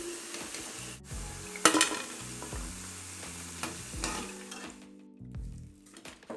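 Vadas fry in hot oil with a steady crackling sizzle as a metal spoon clanks and scrapes against the pan, most loudly near the start, before the bubbling eases toward the end.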